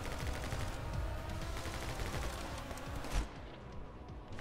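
Dual pistols firing in My Friend Pedro, a rapid, continuous stream of sharp gunshots lasting several seconds, close and loud, ending with a heavier thud before the noise drops away.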